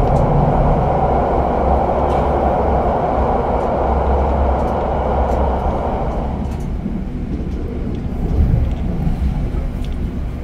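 A passenger train at Gombong station produces a loud, continuous rumble and rolling roar that gradually eases in its higher tones, with no speech over it.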